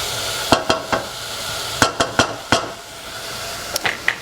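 Onions softening without browning in a pan for a cashew nut curry give a steady low sizzle, broken by a few sharp clicks and taps of a utensil against the pan, close and without talk.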